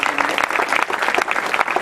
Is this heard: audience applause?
yes